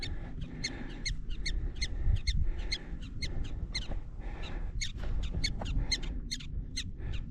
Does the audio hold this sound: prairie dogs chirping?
yes